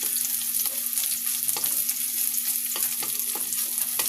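Garlic sautés in oil in a pan, giving an even bright sizzle broken by several short scraping stirs, close and steady with no voices.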